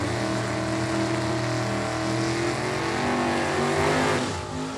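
Drag racing cars, a Ford Mustang and a 1969 Camaro, launch down the strip at a Super Pro event, giving a loud sustained roar of engines with rising revs that ease slightly at the end.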